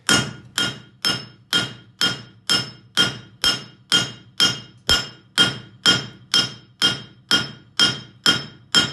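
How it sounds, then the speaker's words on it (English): A farrier's hammer strikes a concave front horseshoe on an anvil while drawing a toe clip, about eighteen sharp, evenly spaced metallic blows ringing close and loud with no talking. "I'm going to go in with the heel of my hammer and then lighten off"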